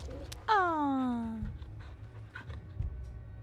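A dog in the Final Fantasy XVI video game lets out a single long, falling whine, followed by soft panting and small movement sounds over a low background.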